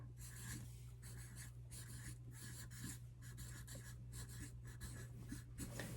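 A teacher writing on a board during a math lesson: faint, scratchy strokes in short bursts with brief pauses, over a steady low hum, no voice heard.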